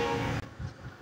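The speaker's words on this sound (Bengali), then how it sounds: "6000 সিরিজের ইঞ্জিন নিয়ে লোকাল শাটেল ট্রেন, যেটি হচ্ছে পোড়াদা থেকে গলন্দ ঘাট রুটে পর্যন্ত চলাচল করে" Local shuttle train hauled by a 6000 series locomotive on the Poradah to Goalundo Ghat route, heard as a loud continuous rumble with a brief dip partway through.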